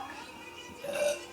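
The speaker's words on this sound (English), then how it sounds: "Go, burp." A single fairly quiet burp during a burping contest rises briefly near the end of the clip, with voices murmuring in the background.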